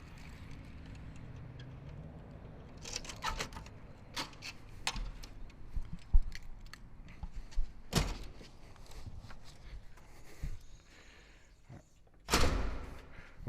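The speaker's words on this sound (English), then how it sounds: "I gotta unlock the door real quick." Church door being unlocked and opened: scattered metallic clicks and clunks of a key and latch, then a sharp knock-like thud and a final loud bang of the door, with quiet gaps between.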